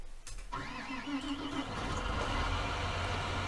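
A tractor engine starts in a farming video game: a cranking whine that turns into a steady low idle rumble, close and continuous.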